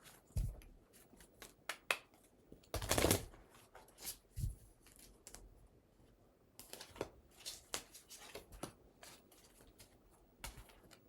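Cards from an oracle deck are handled close up and quietly, with soft shuffling, flicks and a few sharper snaps in irregular bursts.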